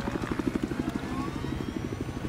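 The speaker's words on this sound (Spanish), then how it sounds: "ahí está mi helicóptero" Helicopter in Battlefield 4 on PS4, a steady rhythmic rotor chop with low engine drone, loud and close throughout with no talk over it.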